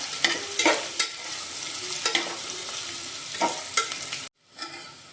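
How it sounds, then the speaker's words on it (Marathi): Potato and garlic paste frying in a pan for hotel-style veg biryani, a steady close sizzle broken by repeated stirring scrapes, ending in a brief pause before the frying resumes. "आलू लसूण पेस्ट खमंग वास सुटेपर्यंत भाजून घ्या"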